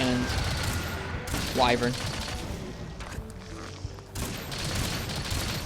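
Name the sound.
heavy bowgun firing pierce shots rapidly, from a video game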